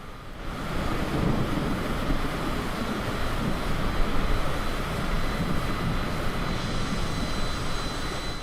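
Aircraft in Microsoft Flight Simulator flying through a hurricane, a steady loud engine drone blended with rushing wind and storm roar that holds constant throughout, with no talking.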